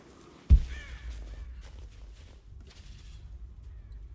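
A crow caws in the video game Rise of the Tomb Raider, a single raspy call right after a sudden thump, then low ambient rumble with faint scattered rustles.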